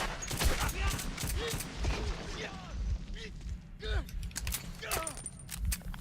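Chaotic gunfire in the Metro 2033 video game, rapid bursts of shots and mechanical clatter under someone talking excitedly over it.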